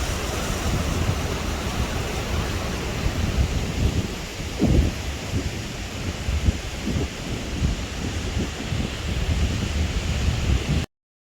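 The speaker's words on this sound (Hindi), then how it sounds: "जैसे ही हम पहुंचे तो बहुत तेज़ बारिश शुरू हो गई।" Heavy rain pours steadily with low rumbles of thunder and gusts of wind, a dense continuous wash of sound with occasional deeper booms, and no voices.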